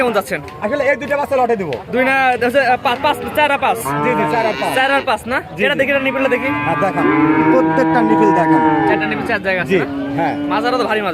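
Dairy heifers and cows at a cattle market moo repeatedly and loudly, several long overlapping calls close by, with people talking among the animals.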